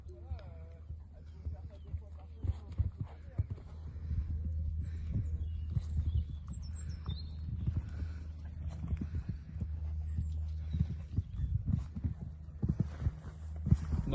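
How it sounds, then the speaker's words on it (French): A show jumper's horse canters calmly during a competition warm-up, with soft rhythmic hoofbeats on footing and low steady rumble underneath, continuing through the whole stretch. "pour l'instant j'ai un galop très calme et je cherche vraiment le relâchement"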